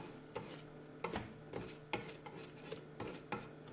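A small silicone spatula scrapes around the sides of a Cecotec Mambo food processor bowl, giving soft rhythmic rubbing strokes roughly every half second, faint and close with no talk.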